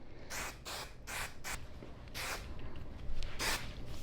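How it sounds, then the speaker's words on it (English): Hairspray hisses from a can onto a row of curled fine hair in several short, close bursts, with brief pauses between sprays. "Now we're gonna spray our row with hairspray."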